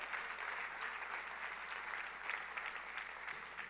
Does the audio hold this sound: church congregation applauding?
yes